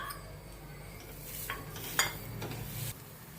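Grated jaggery and coconut sautéed in a pan for modak filling: soft, steady stirring with a faint sizzle and a few light clinks of a utensil against the pan, close by and quiet.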